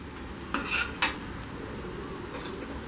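Rice tipped into a beetroot pulao and stirred, with two sharp scraping clatters of a spoon against the pan over a low background hiss.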